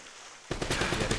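Enemy gunfire in the video game Uncharted: Drake's Fortune bursts in abruptly after a quiet moment, a dense, loud volley of automatic shots that continues to the end.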